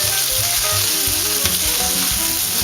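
Onions sauté in oil for a simple tomato sauce, producing a continuous close sizzle and crackle alongside low tonal hum and clatter from the stove area, with no voices.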